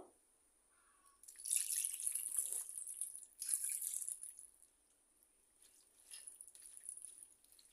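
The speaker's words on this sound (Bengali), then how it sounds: "এখন পরিমাণ মতো পানি দিয়ে দিব" Water pours into a cooking pot of baim fish in two splashy bursts, then a softer, shorter trickle, fairly close, with no voices.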